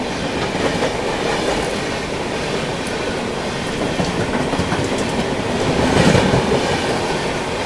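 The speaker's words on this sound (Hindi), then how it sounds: "यहाँ पर अपने से क्रॉस होती हुई गोरखपुर हमसफर।" Gorakhpur Humsafar Express, running between Anand Vihar and Gorakhpur, crosses close by with a continuous loud rumble and rhythmic wheel clatter, swelling slightly toward the end.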